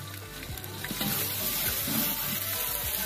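Ginger garlic paste sizzles steadily in a pot with browned onions for dum biryani, a bright continuous frying hiss with occasional soft stirring scrapes, heard alone without talk.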